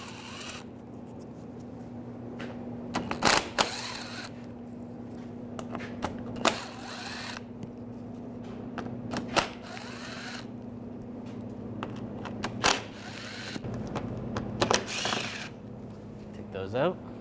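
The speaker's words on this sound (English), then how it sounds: "Using a T25 socket, we're going to take these screws out." Power tool with a T25 socket backing screws out of a 2009-2017 Volkswagen Tiguan front bumper cover, several short high whirring bursts over a low steady hum, with clicks and handling noise between.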